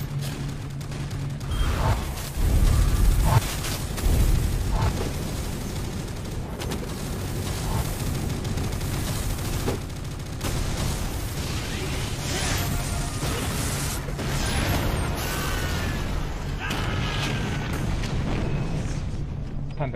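Dense video game combat fills the clip with continuous gunfire bursts and booming explosions, loud and layered, with a heavier blast cluster early on and a constant rumbling background throughout.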